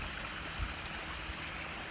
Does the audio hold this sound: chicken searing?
no